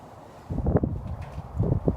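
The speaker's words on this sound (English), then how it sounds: "Man, that wind." Gusts of outdoor wind buffet the microphone while someone works on an exhaust installation for a 2054cc VW Beetle, a low rumbling whoosh in two bursts after a quiet start.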